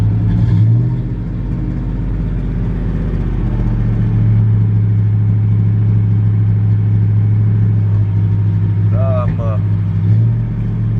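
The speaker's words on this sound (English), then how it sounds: "A little more bark than I'd really like, but this will be a good truck too." A truck engine with a barky exhaust idles with a deep rumble and revs up briefly, running loud and close throughout the clip.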